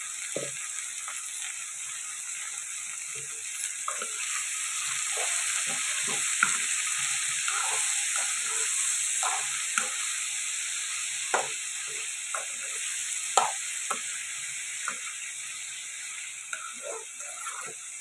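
Ridge gourd and chana dal curry, salted and softened under a lid, being stirred in a pan: a steady sizzle with soft, irregular scraping strokes throughout, fairly quiet and close, with no talking.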